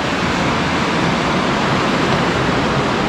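Steady, close rush of flowing water, like a stream or small waterfall, filling the whole stretch with broadband noise and no pauses.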